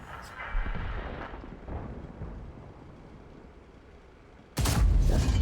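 Tank cannon shell in World of Tanks ricocheting off an enemy Ho-Ri tank destroyer, heard as a sudden loud, close boom after a low rumbling battle ambience.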